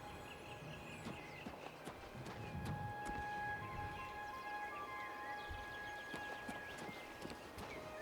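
Horse hooves clip-clop at a walking pace in the video game Oblivion Remastered, distinct and evenly spaced, over a quiet ambient background with faint tonal chimes.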